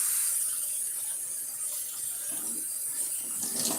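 Tap water pours into a sink as rice is rinsed, a steady hissing stream with faint splashes and shifts near the end, heard alone without speech.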